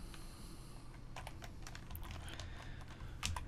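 Rapid keystrokes on a computer keyboard while code is typed in the Brackets text editor, a steady stream of close, crisp clicks with a few louder taps, heard alone against a low hum.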